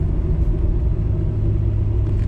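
A Chevrolet LS V8 runs at a steady idle after a fix for its exhaust header tick, giving a close, even, low rumble with no clear ticking standing out.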